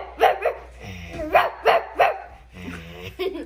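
Dogs bark nearby in a quick series of loud barks and yips, with short pauses between them.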